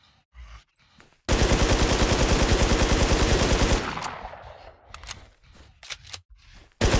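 Automatic gunfire from FN, AK and MP5 rifles in the Infestation video game: one loud, fast, sustained burst that lasts a few seconds, then trailing echoes and scattered single shots.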